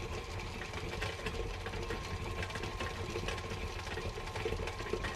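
An electric mixer creams butter, sugar and flour for Mickey Linzer cookies, whirring in a steady, even drone with a faint mechanical rattle, quiet and continuous throughout.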